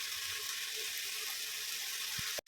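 Water pours steadily into a pot of pumpkin and fish curry, a continuous close splashing wash with no talk, ending in a brief clatter.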